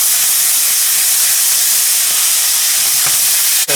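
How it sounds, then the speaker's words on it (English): Beef stir-frying over high heat in a pan gives a loud, steady broadband sizzle and hiss with no pause, a brief scrape near the end. "Now I'm going to add in my beef, and I'm going to stir fry that on high heat"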